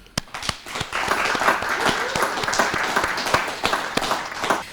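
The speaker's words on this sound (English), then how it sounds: "Let's give them all a round of applause." At a high school senior recognition ceremony, an audience gives steady applause for scholarship recipients, with individual sharp claps standing out near the microphone over the wider crowd.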